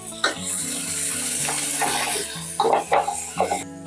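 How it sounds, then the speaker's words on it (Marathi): About a cup of chopped onion dropped into a hot pan for chicken yakhni pulao, bursting into a loud, steady sizzle with a few stirring scrapes near the end, close and without talk. "पुढे आपण कांदा टाकून घेतोय. 1 कप कांदा घेतलाय मी"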